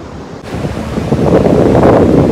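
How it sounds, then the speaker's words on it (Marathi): Sea waves wash onto a clean Konkan beach facing the open sea, a steady broad roar of surf that swells a little louder partway through, mixed with gusty wind noise against the microphone. "अगदी समोर अथांग समुद्र आहे."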